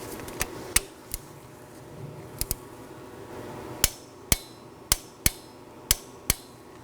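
Sharp metallic clicks from a torque wrench tightening spark plugs to 14 foot-pounds on a 1.8L four-cylinder Nissan Sentra, arriving as scattered single and paired ticks, with a faster run of evenly spaced clicks near the end, all close and clear.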